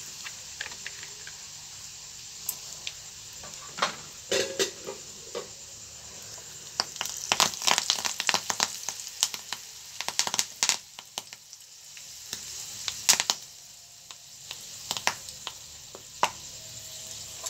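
Ground cumin and fenugreek powder sizzling in hot oil in a pan, a quiet steady hiss punctuated by scattered crackles and pops, with no talking.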